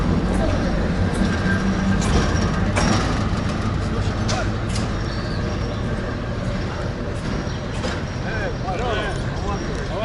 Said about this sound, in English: There's a Georgian train.